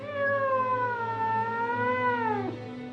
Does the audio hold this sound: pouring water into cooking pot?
no